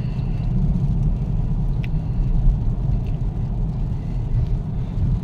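Steady low rumble of passing cars and trucks along a busy highway in the Philippines, a continuous nearby road drone with no talking.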